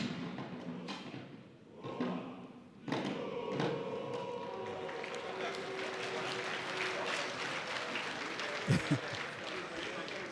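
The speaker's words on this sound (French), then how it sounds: "nous avons des acclamations du vice-président de la République" A crowd at a Flag Day ceremony cheers and applauds for the vice-president, a broad, steady wash of clapping and murmur after a quieter start with a few thuds, a couple of low knocks near the end.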